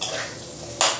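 Potatoes being stirred and fried in a pan, a metal spoon clinking and scraping against the pan in two brief close clatters.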